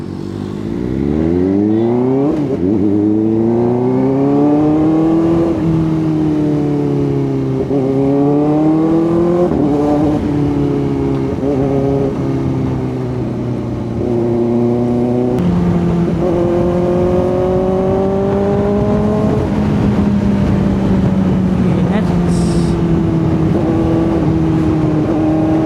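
A Kawasaki ZX4RR motorcycle rides through heavy road traffic, its engine droning loud and close the whole time with a rising and falling pitch as the rider works the throttle.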